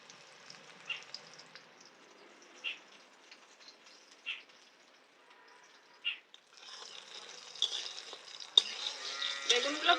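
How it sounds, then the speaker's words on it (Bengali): Eggplant pieces coated in cornflour fry in mustard oil, at first with faint scattered pops and crackles, then a louder, steadier sizzle builds near the end. "কর্নফ্লাওয়ার মাখিয়ে রাখা বেগুনগুলো ভাজবো।"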